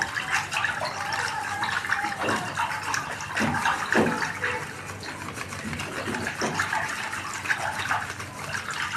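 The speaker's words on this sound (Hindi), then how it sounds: "ये थोड़ी थोड़ी करके ऐसे डालते जाना है और इसे हिलाते जाना है ऐसे करके" Jelly powder poured gradually into a large batch of water and stirred by hand, giving a continuous sloshing, gushing water sound with occasional splashes, fairly close, without speech.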